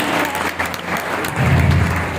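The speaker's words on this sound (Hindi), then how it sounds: "एक बार फिर से जोरदार तालियां।" Audience applause at a district talent award ceremony: steady, dense clapping from a sizeable crowd fills the whole two seconds and grows slightly louder toward the end.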